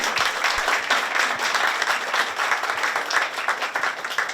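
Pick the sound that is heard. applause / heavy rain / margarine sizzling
applause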